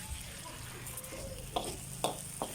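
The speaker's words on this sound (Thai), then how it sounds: "ทั้งพริกชี้ฟ้า คะน้าแล้วก็ก้านผักบุ้งนะคะ ผัดผัดไปค่ะ" Chili, Chinese kale and morning glory stems stir-fried in a pan, with a soft steady sizzle and a few distinct scraping clacks of the spatula against the pan, close by and without speech.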